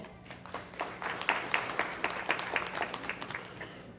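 Audience applause for a medal recipient at a city council candidates' debate, a steady mass of hand claps lasting the whole stretch at moderate, room-filling loudness, with no talk over it.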